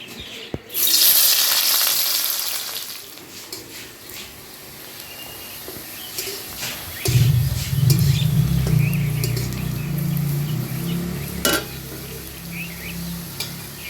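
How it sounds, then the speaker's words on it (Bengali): Chopped onions drop into hot mustard oil in a pan and sizzle steadily, a loud frying hiss that swells partway through and continues with occasional stirring clatter, no talking. "তেলটা গরম হয়ে গেছে, এখন দিয়ে দিব পেঁয়াজ কুচি।"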